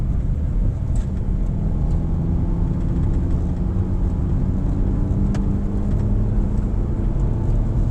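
A 2023 Suzuki Dzire engine pulling at about half throttle and upshifting into third gear, heard as a steady loud low drone of engine and road noise from inside the car, with no talking.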